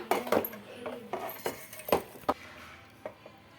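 Steel plate and lid set into hot water for soaking, giving a handful of sharp metallic clinks and knocks at irregular intervals, fairly close, with no talking.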